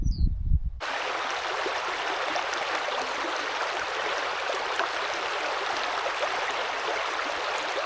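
A river on Dartmoor rushing with a steady, dense wash of flowing water that begins abruptly after a short, muffled thump and continues unbroken at a constant level.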